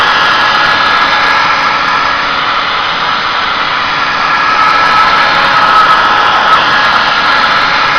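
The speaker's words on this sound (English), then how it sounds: "The hairdryer is sufficient, you don't need any greater heat output than that." A hair dryer blows loudly and steadily up close, a constant high whooshing roar with a faint whine.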